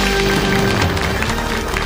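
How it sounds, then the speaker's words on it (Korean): Studio audience applause welcoming a guest on a Korean TV health lecture show, dense continuous clapping filling the room, loud and close throughout. "큰 박수로 환영해 주십시오."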